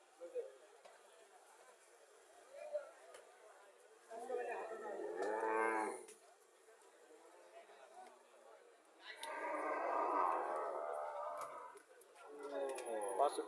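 Cows and a PGM breed calf moo at a busy cattle market in Comilla, several drawn-out calls rising in separate bursts over a low background of crowd noise.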